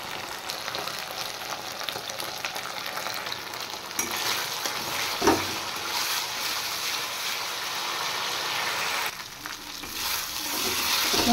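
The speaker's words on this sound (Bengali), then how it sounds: "মশলা কষানো হয়ে গেছে।" A spiced masala with salt and turmeric fries in a pan while gata kachu is cooked, giving a steady, bright sizzle throughout, with occasional scraping stirs and a couple of louder clatters.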